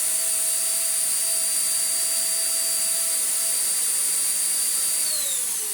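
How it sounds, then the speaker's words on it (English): A Morphy Richards Perform-Air 73381 upright bagless vacuum cleaner runs steadily with a loud, high whining motor and rushing airflow, its pitch dipping slightly near the end, with no talking. "it seems to blow all the dust away through its post-motor filter and the exhaust airflow"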